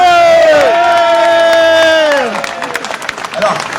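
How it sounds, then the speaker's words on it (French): A loud, drawn-out cheer rings out from a Tour de France roadside crowd, then falls away into scattered clapping. "Donc on peut les applaudir."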